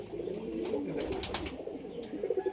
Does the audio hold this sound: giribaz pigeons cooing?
yes